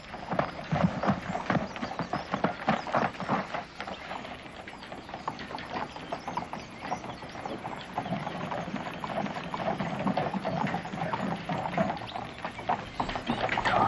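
Horses' hooves clip-clop steadily along in a 1993 adventure sci-fi action film, a continuous rhythmic patter of hoofbeats at close range with no talking.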